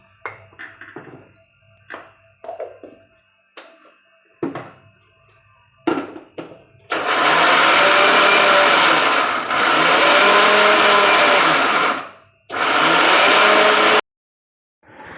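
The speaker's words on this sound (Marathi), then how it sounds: "लसूण आणि जिरं आणि मीठ टाकून मिक्सरवरती छान अशी बारीक पेस्ट करून घेतली" A kitchen mixer grinder whirs loudly in several long bursts, stopping and starting, grinding garlic, cumin and salt into a fine paste, after some clinking and handling noises.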